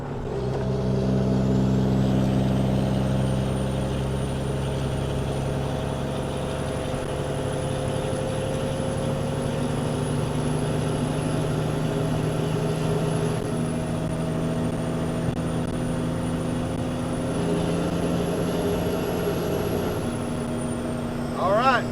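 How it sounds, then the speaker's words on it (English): A semi truck with an N14 Cummins 550-horsepower diesel engine rumbles steadily from inside the cab, a deep layered drone with a high whine sweeping up and holding above it, running alone for over twenty seconds. "Got an N14 Cummins, 550 horsepower in here. She sounds good."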